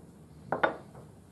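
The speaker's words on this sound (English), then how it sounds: "To that, we'll add a couple of ice cubes" A couple of ice cubes drop into a blender beaker for a berry smoothie, giving two close, hard clinks a fraction of a second apart, then a faint knock, set against a quiet kitchen background.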